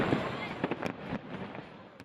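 Fireworks at an April 30th victory celebration in Vietnam, a series of sharp, fairly distant pops and crackles in quick succession against a faint crowd background.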